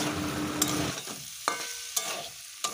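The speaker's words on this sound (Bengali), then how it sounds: "নুন দিয়েও কিছুক্ষণ নাড়াচাড়া করে কষিয়ে নেব" Taro and potato stir-fried with salt in a pan: a dense sizzle fades after the first second, followed by four crisp spatula scrapes spaced about half a second apart, close up and with no talking.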